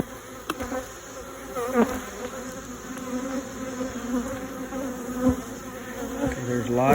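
Honeybees buzz steadily around an opened, smoked hive, a dense close drone with individual bees whining past the listener now and then.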